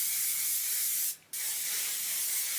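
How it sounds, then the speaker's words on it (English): A short single burst of hairspray sprayed onto hair, a close, brief hiss of about a quarter second against a steady background. "I'm gonna go in with a little bit of hairspray."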